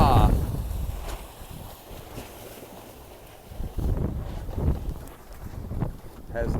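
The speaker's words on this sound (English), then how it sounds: "Has nice new crisp sails. I like the sound of those sails." New crisp sails on a racing sailboat snap and flutter in gusty wind, heard as irregular bursts of flapping over heavy wind noise on the microphone, with a couple of louder surges toward the end.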